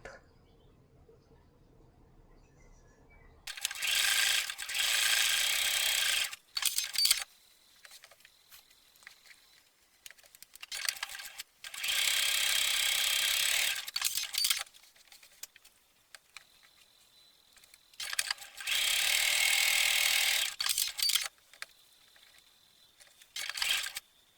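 A sewing machine stitches strips of patchwork fabric placed right sides together along the long edge with a 1 cm seam, for a patchwork scrunchie. Three separate bursts of fast whirring run a few seconds each, with quiet pauses between and no talk.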